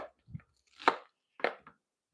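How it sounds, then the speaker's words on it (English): A knife dicing onions on a board for a shepherd's pie base: four or five sharp, close chops at uneven intervals, with silence between them. "we'll get these onions kind of diced up for the base of ours"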